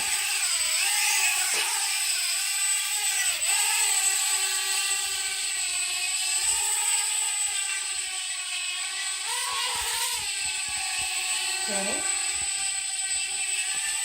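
A WDS132 mini car drone flying in drone mode, its propellers giving off a steady, high whirring whine that holds for the whole stretch, with small dips in pitch as it manoeuvres.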